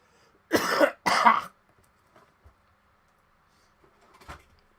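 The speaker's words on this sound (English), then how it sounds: "Oops, I already coughed." Two sharp, close coughs in quick succession, followed by quiet room shuffles and a faint knock.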